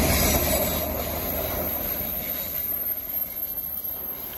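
A train rolls past on the railway beside the Stuart Highway in Australia, a continuous loud rumble of wheels with faint squealing that slowly eases.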